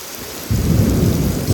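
A thunderstorm with rain and hail: a deep, rolling thunder rumble builds in about a third of the way through and keeps churning loudly under steady rainfall to the end.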